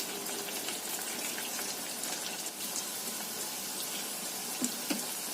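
Snack pieces frying in a pan of hot oil over medium-low heat, giving a steady, close hiss of dense crackling and sizzling with a few sharper pops, no voices.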